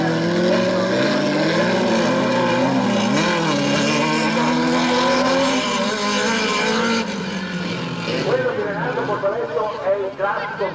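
Autocross race car engines drone and whine continuously on a circuit, loud and sustained with shifting pitch, while a commentator talks over them.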